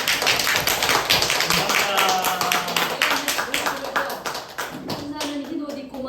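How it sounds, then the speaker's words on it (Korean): Church congregation clapping, a run of quick, close hand claps, some scattered and some bunched together, with voices mixed in underneath. "다시 한번 박수."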